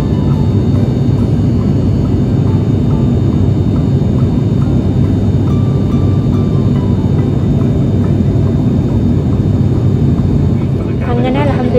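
A steady, loud cabin drone from an airplane in flight to Kozhikode airport, a constant broadband roar that holds evenly from start to end.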